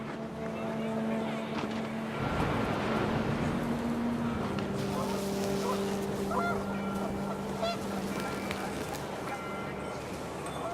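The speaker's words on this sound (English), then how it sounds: "The wind picked up, and panicked geese appeared and quickly went." Panicked geese honk in rising wind during a storm in the video game What Remains of Edith Finch, repeated honks over a steady droning background, with voices present.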